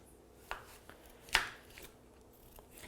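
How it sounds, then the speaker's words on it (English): Ginger skin scraped off with a teaspoon in a home kitchen: a few short, dry scratches, one sharper and louder than the others, spread across a quiet background with no talking. "you've got to do it with a teaspoon, because that just takes the skin off really"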